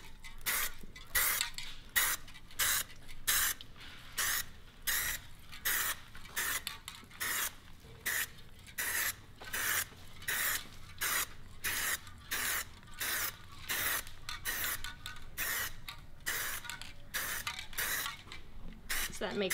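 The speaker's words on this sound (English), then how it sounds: "when you're spraying a wheel like this, you can start with, say, doing the barrel" A hand spray bottle mists a car wheel barrel in quick repeated bursts, each short hiss starting and stopping in a fairly even rhythm, close and clear, with quiet talking in the background.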